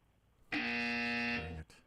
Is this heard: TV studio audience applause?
no